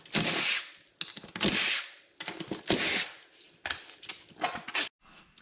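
A power tool whirs in several loud, close bursts, loosening and removing the wheel from a Can-Am Renegade ATV, with short ratcheting pauses between bursts and no talk.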